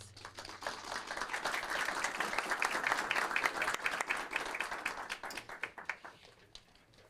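Applause at a city council meeting, a steady patter of many hands clapping that swells in the middle and thins into scattered claps toward the end, moderately distant with no talk over it.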